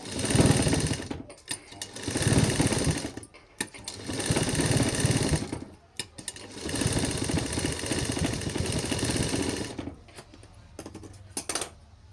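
A sewing machine stitches around a child's cap in several loud mechanical runs of a few seconds each, broken by short pauses, close up with no talking.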